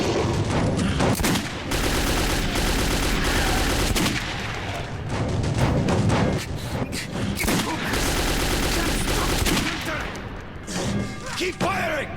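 Rapid bursts of automatic gunfire in Metro 2033, the original game, loud and dense with sustained fusillades, brief pauses between volleys and impacts, with voices shouting over the shooting.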